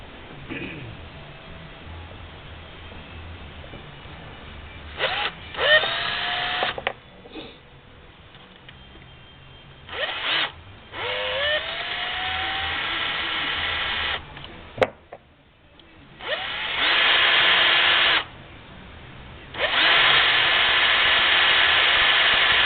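Power tool trimming .44 Magnum brass cases, running in several loud steady bursts of a few seconds each, separated by quieter pauses with handling noise.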